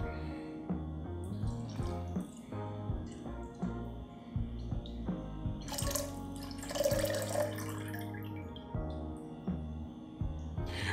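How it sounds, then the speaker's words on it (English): A Paper Plane cocktail is poured from a mixing glass over an ounce of whole milk, a soft trickling, splashing pour with clinks of glass, brief and fairly quiet with no talk. "And we're gonna pour our cocktail over it."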